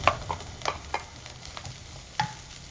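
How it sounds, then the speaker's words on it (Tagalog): Ginger sautéing in a couple of spoonfuls of oil in a pan for a milkfish soup, with faint sizzling under scattered sharp stirring clicks and scrapes of a utensil against the pan, close and fairly quiet. "Una ko lang igisa yung luya."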